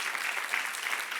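A church congregation claps together in a steady, dense burst of applause, close and even throughout with no voices over it.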